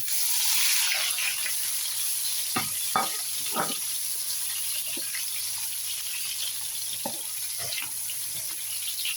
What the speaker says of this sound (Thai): ทีนี้เราก็ใส่แฟงเข้าไปจ้ะ